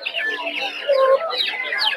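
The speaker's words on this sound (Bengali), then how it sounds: "দেখতে পাচ্ছেন গোল্ডেন ফেভারিট মুরগি" Golden Favorite chickens at a poultry and duck market in Narsingdi on a winter morning cluck and squawk in busy, overlapping bursts, close and fairly loud.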